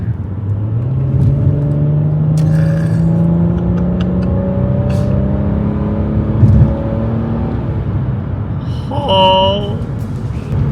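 Nissan Skyline V35 with a naturally aspirated V6 and Fujitsubo exhaust accelerates in D mode, its engine note climbing steadily and loudly for several seconds as revs rise, with a brief higher tone near the end.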